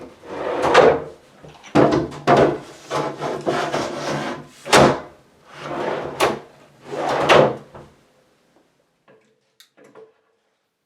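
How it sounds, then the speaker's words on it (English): A wooden closet drawer slides and knocks shut several times in quick succession, with woody bumps and clicks into its latch, then everything goes quiet. "You want to hear that click. That'll let you know the drawer's engaged."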